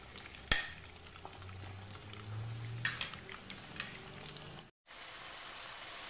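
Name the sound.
frying in a pan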